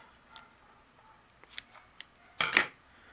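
Scissors cut a foam square in half for a craft card: a few quiet snips, then a louder crisp double cut near the end, close and otherwise quiet.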